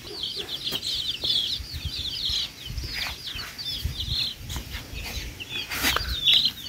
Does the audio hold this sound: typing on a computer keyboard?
no